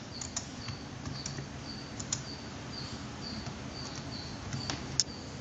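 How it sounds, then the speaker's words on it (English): Typing on a laptop keyboard while entering text in a terminal program, a quiet run of light irregular key clicks set against steady background hiss, with one sharper tap near the end. "So I'm typing some text in my laptop's terminal program."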